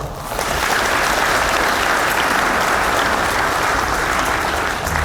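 A hall audience at a regional council launch ceremony in Daegu breaks into applause after a speech, the dense clapping rising quickly and holding steady and loud for several seconds.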